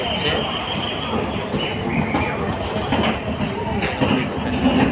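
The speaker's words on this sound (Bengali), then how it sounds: "ট্রেন পাস করছে।" A passenger train passes through a railway station on a rainy day, its continuous rumble and rattling wagons steady and close throughout, with a faint voice under the noise.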